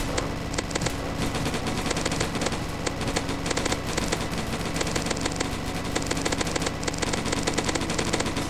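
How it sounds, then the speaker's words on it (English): Rapid, dense automatic gunfire from a Roblox zombie attack shooter game, continuous bursts of crackling shots filling the whole stretch at steady loudness with no talk. "Hey Phoenix, stop shooting."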